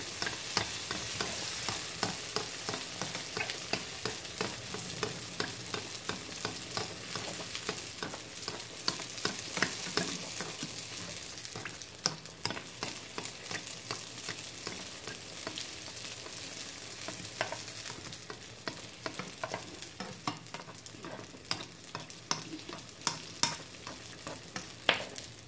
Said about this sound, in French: Et là, je commence à mettre l'huile par-dessus.